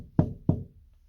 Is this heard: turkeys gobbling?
no